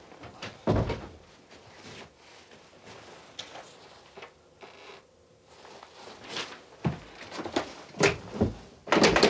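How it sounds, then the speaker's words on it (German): An interior door is shut and rattled, giving a series of sharp wooden thumps and knocks scattered across several seconds, some close and loud, others softer, with no voices. "Petra, mach die Tür auf, was soll denn das?"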